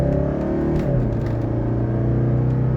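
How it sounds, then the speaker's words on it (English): A 1985 Mercedes 300SD diesel accelerates during a rolling 0 to 60 run, its low engine rumble heard from the cabin with a brief dip as it shifts gear, then a steady, loud drone. "Okay, we're doing a rolling 0 to 60 in this one."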